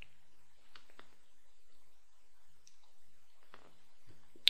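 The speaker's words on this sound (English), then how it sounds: "So if I simply go here and click on edit," A computer mouse gives a few faint, sharp clicks spread across a quiet stretch, heard close with no talking.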